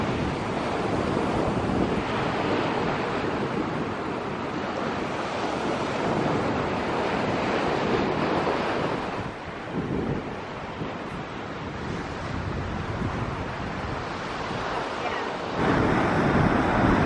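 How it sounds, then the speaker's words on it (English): Surf breaks rhythmically on a deserted Cornwall beach in a continuous, loud wash of waves, with gusty wind buffeting the microphone throughout. "That water, the sound, the rhythmic breaking is so calming."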